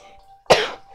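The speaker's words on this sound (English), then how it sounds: "Cough, cough." A single sharp cough, loud and close, bursts out after a brief near-silent pause and then fades quickly.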